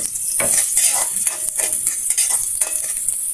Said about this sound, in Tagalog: Higisa natin ito hanggang sa mag-brown